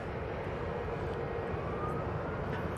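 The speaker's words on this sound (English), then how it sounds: "It's the Eurowings from Dusseldorf. A bit firm on that rear left gear," Eurowings plane from Dusseldorf touching down at Manchester Airport, a continuous moderate jet rumble and rush at a distance, steady from start to finish.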